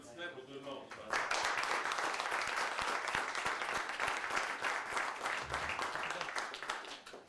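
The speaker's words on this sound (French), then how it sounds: "Bonne main d'applaudissement pour tout le monde" Sustained audience applause at a veterans' medal ceremony held by the National Assembly, a dense, steady clatter of many hands that begins after a brief quiet moment with faint voices and continues loudly to the end.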